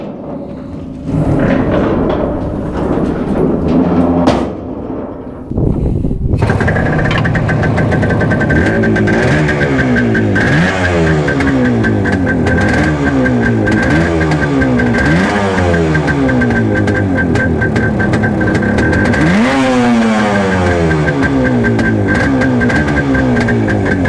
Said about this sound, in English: before I show you the bike, I want you to hear it first.